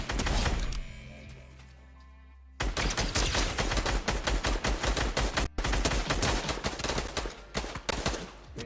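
Gunfire in a UEFN (Fortnite editor) game: after a loud blast fades to a brief lull, a long, rapid, near burst of automatic fire crackles on, pausing once before continuing.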